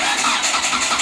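A Hyundai car engine starting up after an alternator rewire, a dense steady mechanical roar filling the whole second with no voices.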